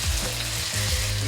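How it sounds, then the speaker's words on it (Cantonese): Chicken pieces sizzle hard in hot oil in a wok as a Chinese chef makes a stir fry, a steady, close crackle with a couple of soft pulses as the meat is tossed. "將啲雞肉唔一定要炒到佢好熟，先過油佢先。"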